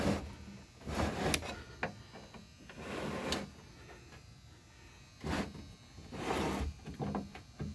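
Manual crank raising the rear window glass of a 1965 Chrysler New Yorker: several rough scraping, rubbing strokes with faint clicks, close and quiet, separated by short pauses.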